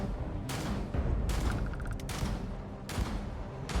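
Gunfire from a shooting encounter in the sci-fi game Starfield, with bursts of shots landing in clusters at about 0.5, 1.3–2.0 and 2.9 seconds over a continuous game background, loud and close.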